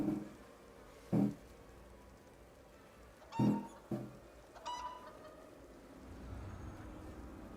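A chicken in The Elder Scrolls Online gives a few short, separate clucks spaced a second or two apart, fairly faint over quiet game ambience.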